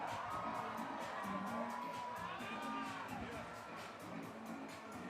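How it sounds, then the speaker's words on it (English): Applause and cheering from an X Games Aspen crowd for the silver medalist, Canadian Cody Matichuk, a broad, steady wash of noise with whoops, with a PA voice over it. "One more time, round of applause for your silver medalist,"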